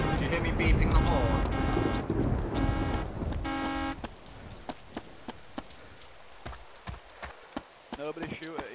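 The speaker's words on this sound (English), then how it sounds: "Do you hear me beeping the horn?" Short, evenly spaced beeps of a car horn ring out several times over a busy DayZ game soundscape with rain-like noise and some talking.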